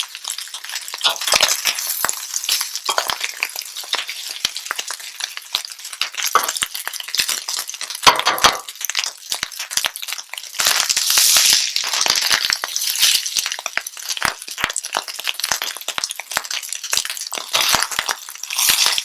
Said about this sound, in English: Nice frying action is going on at the bottom.